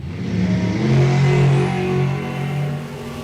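A dragster engine at a drag strip rumbles steadily and loud with a low, throbbing tone that swells slightly midway, no voices over it.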